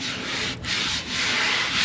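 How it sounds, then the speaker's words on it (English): A motorcycle part is sanded by hand with steady, close, scratchy rubbing strokes that briefly pause twice and then continue. "I'm gonna try to give it a little sanding and see exactly what's high and what's low."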